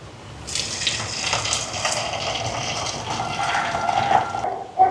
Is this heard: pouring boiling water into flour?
yes